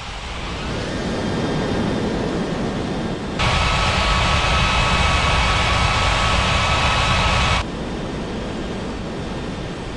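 Jet airliner engines roar loud and steady during a takeoff in an air traffic control game, with a brighter whining surge in the middle before easing back to a constant rumble.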